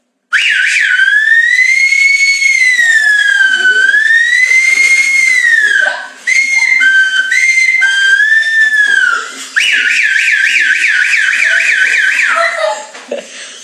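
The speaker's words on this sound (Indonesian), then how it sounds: "Suara mobil ambulans." An ambulance siren wails loud and close, a high tone sweeping smoothly up and down in slow cycles, then breaking briefly before a faster, steadier warble takes over.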